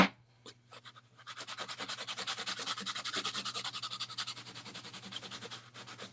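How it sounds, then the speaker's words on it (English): A rag rubs surface wax onto a surface in steady, rhythmic back-and-forth strokes that start after a few soft scuffs and carry on close and even, with no talking. "I'm just wiping on some"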